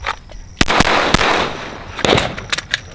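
Pistol shots at an outdoor shooting range, several sharp loud cracks in quick succession with short gaps, close and dominant over faint background noise.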